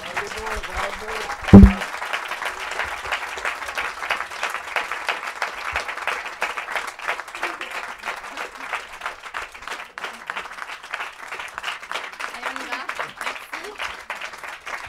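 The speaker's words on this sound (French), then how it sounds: "j'aimerais que vous finissiez en les applaudissant" An audience at a French panel on foreign models applauds Lucie and Mathéa, a long run of dense clapping that stays steady and fills the room, with a sharp thump and a brief voice near the start.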